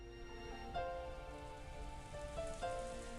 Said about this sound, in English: As Angie slept, she was wrapped up in the soft sound of the rain.